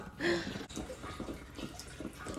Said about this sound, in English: The water is still flowing.